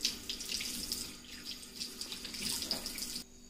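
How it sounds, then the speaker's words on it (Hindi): Water runs steadily from a tap into a sink while a face pack is washed off, a continuous close splashing hiss with small irregular spatters that stops abruptly near the end. "तो अभी इसे वॉश कर लेती हूँ"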